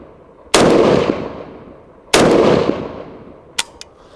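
Three loud, close gunshots from a gold Ikon Weapons Micro Galil pistol: two big cracks about a second and a half apart, each with a long ringing tail, then a quicker, sharper pair of shots.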